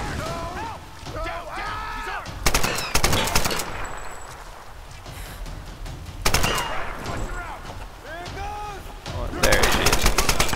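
Rifle gunfire in the video game Tomb Raider: several sharp bursts of rapid shots, loud and close, separated by quieter gaps, with a voice speaking between the volleys.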